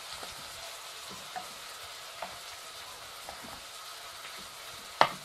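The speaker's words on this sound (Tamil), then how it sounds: "இப்போது இந்த வெங்காயத்தை அதில் சேர்த்துடுங்க. நல்லா வதங்கட்டும்." Onions sauté in a pan for a Tamil tomato potato sabji, giving a soft steady sizzle with a few light stirring scrapes and one sharp clink near the end.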